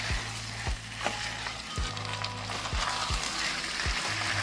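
Boiled potatoes sautéing in a pan for vegetarian aloo dum, a continuous sizzle with repeated scraping and knocks of a spatula against the pan at an uneven rhythm, close and moderately loud.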